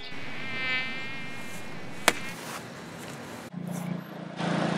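A mosquito buzzes as a steady, thin whine that wavers in pitch, broken by a sharp slap, followed by louder rustling and background noise.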